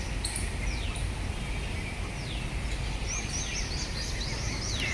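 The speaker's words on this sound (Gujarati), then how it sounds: "એટલા બધા પક્ષીઓ બોલે છે" Many birds chirp and whistle in short, scattered calls amid woodland in a township, faint against a steady broadband background hiss.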